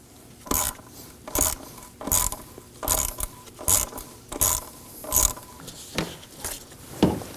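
A 1/4-inch ratchet with a 5.5mm socket loosens a bolt on the high-pressure fuel pump of a 2014–2020 Acura MDX 3.5L V6. It clicks in about nine evenly spaced bursts, close up, with no voices.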